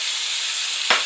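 Meatballs for a Hawaiian-style beef dish sizzling loudly in a pan as syrup and green onions are stirred in, a steady close fry with a brief scraping stir near the end.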